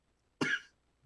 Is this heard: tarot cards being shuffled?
no